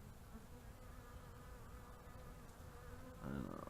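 A steady swarm of bees buzzes around a top bar hive that has been robbed out, a dense continuous drone heard close, swelling a little louder near the end, with no voices.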